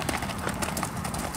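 Hooves of a ridden horse clip-clop in a quick, steady rhythm, close and moderately loud, with faint background noise.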